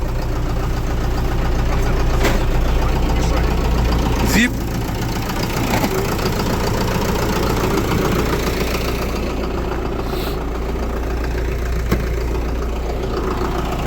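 A new Scout TD-1104C tractor engine idles while warming up, a steady low, throbbing run with a faint knock that holds throughout, with people talking over it.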